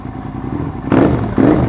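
An SV650S motorcycle with an unbaffled exhaust rumbles at idle, then gives two loud, sharp throttle blips, raw and close.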